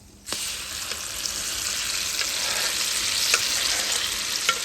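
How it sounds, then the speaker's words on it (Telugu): Lentils tossed into hot tempering oil for Andhra-style moong dal with raw mango, a sudden burst of sizzling that holds steady and close, punctuated by a few sharp clicks of stirring and no voices. "పోపులో పప్పు వేస్తున్నానండి."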